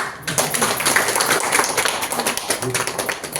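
An audience claps at a Telugu book launch event for a play, producing a steady wash of dense applause throughout with faint speech mixed in.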